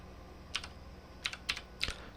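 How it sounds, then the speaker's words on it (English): Keys on an Amiga 1200 computer keyboard click in a short, uneven burst of about six crisp taps, close and quiet against a low background hum. "So we type in the select command"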